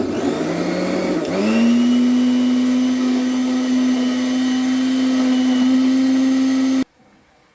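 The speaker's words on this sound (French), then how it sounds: "Le temps de mixer nos pommes et de les rajouter dans le gâteau." A blender pureeing cooked apples runs loud and close, spinning up into a steady high whine that holds for several seconds before cutting off abruptly.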